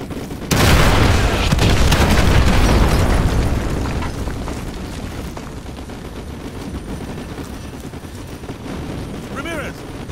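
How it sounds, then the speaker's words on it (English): Artillery strike on enemy vehicles in Call of Duty Modern Warfare 2 Campaign Remastered: a heavy, loud boom erupts and rumbles for several seconds, then fades into a lingering roar of debris and battlefield noise. "Ramirez, call artillery on the enemy vehicles"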